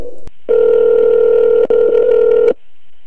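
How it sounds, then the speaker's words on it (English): A telephone receiver clicks as it is hung up and picked up again, then a loud steady dial tone drones for about two seconds, briefly cut by a click, and ends abruptly. "hang up the phone, you son of a bitch."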